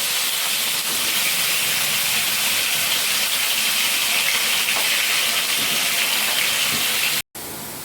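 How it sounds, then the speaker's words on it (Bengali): Steady, loud sizzling hiss of potatoes frying in hot oil, continuous throughout, with a brief drop to near silence just before the end. "ওই তেলের মধ্যে আমি আলুগুলো ভেজে নিচ্ছি।"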